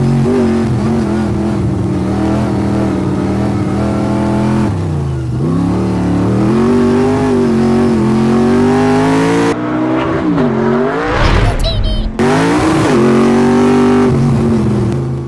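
A hillclimb race car climbs Mt. Washington, its engine screaming loud and close through repeated rising revs, with brief dips at gear changes and a short gap near the end before it pulls hard again.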